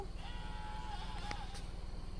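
Faint goat bleating carried over a steady low engine-like drone, with a couple of wavering calls rising out of the background noise.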